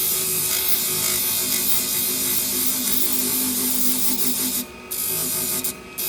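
Hair salon shears with a convex edge are being sharpened on a 400 grit stone, giving a steady close rasping and rubbing scrape with brief pauses near the end.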